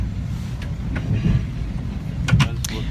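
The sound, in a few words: riding inside a passenger train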